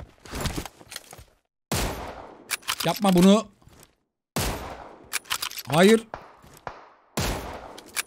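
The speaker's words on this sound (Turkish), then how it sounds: "Yalnız bu çatışma biraz fazla uzadı." Gunfire during a drawn-out firefight in the mobile game PUBG Mobile comes in sharp, repeated bursts and volleys with short gaps between them, while a player talks excitedly over the shots.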